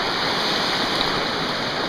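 Shallow stream water rushes and splashes steadily around a hiker wading through in waterproof hiking boots on a nature trail by Finger Lakes waterfalls, a continuous close, loud broadband wash with no talk.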